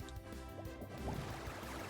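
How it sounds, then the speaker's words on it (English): A Water Pulse attack in a Pokémon video game gives a continuous splashing, gurgling watery rush that stays loud and dense for the whole two seconds. "we'll just water pulse it"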